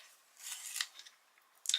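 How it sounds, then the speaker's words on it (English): A blunt pencil is sharpened during a drawing session, making faint dry scratchy rasps in a few short bursts. A sharper crisp scrape closes the sequence, all quiet and close, with no talk. "I'm going to sharpen my pencil"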